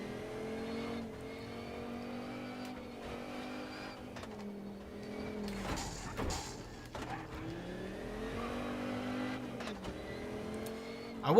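Rally car engine in the WRC 10 video game, steady sustained drone with rising revs and gear shifts, a couple of sharp bursts midway, continuous and fairly loud with no voices.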